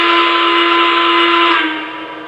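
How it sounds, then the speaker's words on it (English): An American Flyer Y3 model locomotive sounds its steam-style whistle as confirmation of a remote command: one loud, steady, sustained blast lasting about two seconds that tapers slightly at the end, with no talking. "The whistle confirms that the locomotive took the command"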